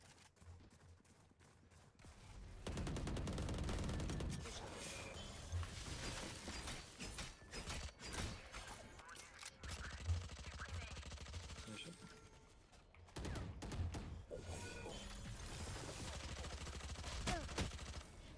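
Gunfire in the Valorant video game comes as rapid bursts and sharp shots, in several loud volleys separated by quieter stretches with clicks and game sounds.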